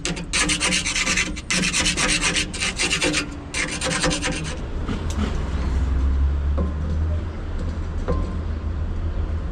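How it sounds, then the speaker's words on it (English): Heavy carbide-tipped scraper worked against a concrete pump part, rough rasping strokes in quick bursts early on that fade into lighter scraping over a low background rumble, close and loud. "So clean this up a bit with our Goodson Super Scraper, one of the handiest tools ever for a concrete pumper."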